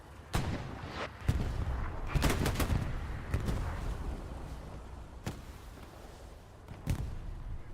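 Gunfire in the World War II shooter Hell Let Loose during a competitive match, with scattered sharp shots and short bursts cracking over a steady battlefield rumble, some near and some distant.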